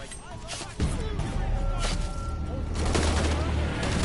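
Bursts of enemy gunfire crack and rattle in Shadow of the Tomb Raider, overlapping shots at middle distance over a low rumbling game soundscape.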